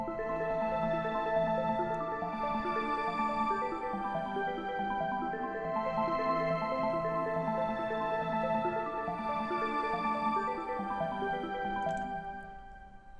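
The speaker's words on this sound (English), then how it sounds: "a little pattern here with an arpeggiator and some string chords for the video" A synth arpeggiator pattern ripples in a steady repeating sequence over sustained string chords in FL Studio, loud and continuous throughout with no voices.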